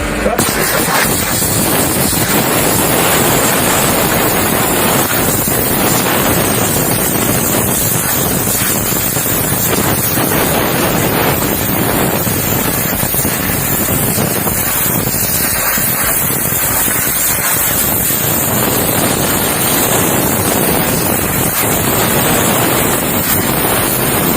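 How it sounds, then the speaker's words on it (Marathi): A high-pressure water jet washer blasts heavy scale off a surface, making a loud, steady hissing roar of spray that runs without a break from start to finish. "इतनी हैवी स्केल्स को ये इजीली इस प्रेशर से हम इसे ब्रेक कर सकते हैं, इसे क्लीन कर सकते हैं।"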